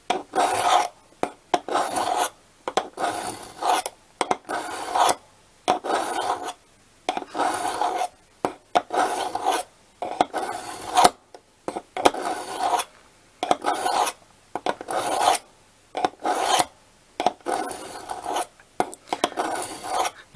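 A knife blade is drawn repeatedly across a Lansky Blade Medic sharpener, giving rough rasping strokes in bursts of short, evenly spaced pulls, close and fairly loud with brief silences between sets.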